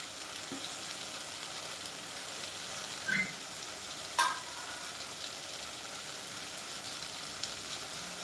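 Red gongura leaves fry in a pot for mutton biryani, giving a soft, steady sizzle with a couple of brief clinks from utensils, quiet and without talk.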